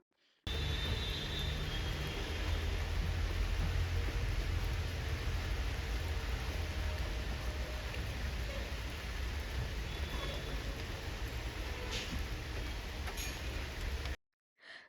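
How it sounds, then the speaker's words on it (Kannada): Steady rain pours down in Tirupati with a dense, even hiss and low rumble, continuous and fairly loud throughout, then stops abruptly. "ತಿರುಪತಿಯಲ್ಲಿ ಮಳೆ ಬರ್ತಾ ಇತ್ತು ಸೊ ಅದನ್ನು ಒಂದು ಕ್ಲಿಪ್ಪಿಂಗ್ ತಗೊಂಡೆ"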